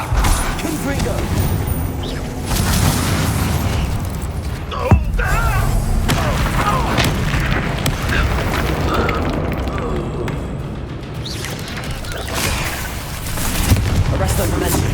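A Confringo blast spell exploding in the Hogwarts Legacy video game, a booming thud within dense, continuous battle noise, with a voice speaking over it.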